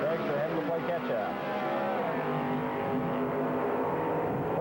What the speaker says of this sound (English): Three comes down, full body car getting the head start over the dragster.